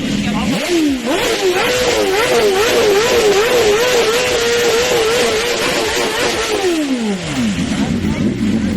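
A BMW M1000RR superbike fitted with headers and an Akrapovic exhaust is revved hard, climbing to a loud wavering high-rpm howl held for several seconds, then dropping back to idle, very close and loud.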